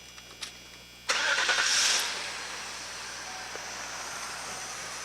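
A vehicle engine cranks and catches with a sudden loud burst, revs briefly, then settles into a steady, even idle, recorded close with no talk.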